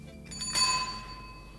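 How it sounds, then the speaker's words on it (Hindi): A bicycle bell rings once, close and clear, its bright metallic tone lingering and fading over about a second. "सिर्फ मुझे वो साइकिल की घंटी दे दीजिए"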